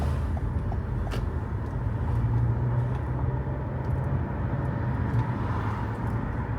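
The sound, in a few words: traffic on a town road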